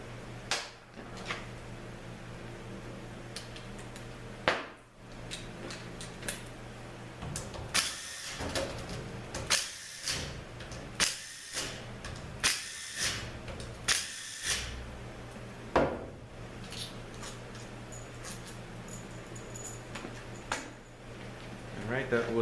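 Hand tools working on a 6L90 automatic transmission, removing its 7mm and 10mm bolts: a steady run of short clicks and metallic clanks, fairly close, with brief pauses, over a low background hum.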